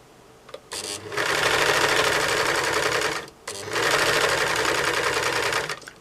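Sewing machine stitching elastic onto knicker fabric while trimming a sliver off the edge, two close, steady bursts of rapid whirring stitches, each about two seconds long, separated by a brief pause.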